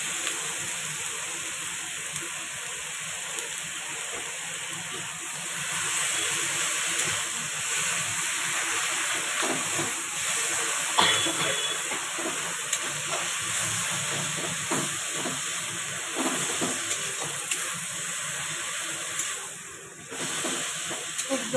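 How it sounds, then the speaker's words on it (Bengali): Boiled taro leaves (kochu saag) with coconut fry and steam in a pan as they are stirred, making a continuous close hiss and sizzle with soft scraping swirls that dip briefly near the end. "এটা ভালো করে আস্তে আস্তে করে নাড়িয়ে জলটা শুকোতে হবে।"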